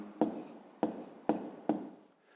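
A pen writes on paper in four short scratchy strokes, each starting sharply and fading, spaced evenly over a couple of seconds at close range, with no voices.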